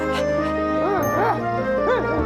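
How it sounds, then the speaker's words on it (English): Woofie, a cartoon dog, gives a few short yips and whimpers in a close, clean recording, with small rising and falling cries spaced over a couple of seconds against a soft musical background. "That's a good dog."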